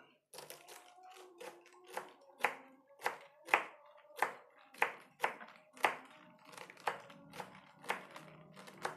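A knife chops the stems of leafy greens into small pieces on a cutting board while cooking, about fifteen crisp, sharp strikes in a steady rhythm, close and clear, with a faint voice murmuring now and then.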